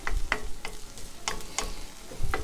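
Onions cook in a pan for Southern Italian meatballs, with a low steady sizzle beneath several sharp, bright clinks and scrapes of a utensil stirring at irregular intervals.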